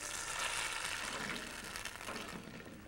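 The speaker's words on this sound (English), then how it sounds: "Place the mixture into a sizzling pot and stir occasionally." Steady hissing sizzle of food frying in a hot pot, continuous and close, with no voices over it.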